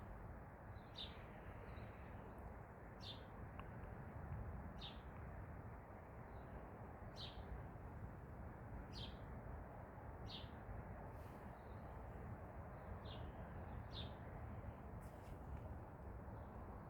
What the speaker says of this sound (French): Il y a un oiseau qui doit pas être très loin là.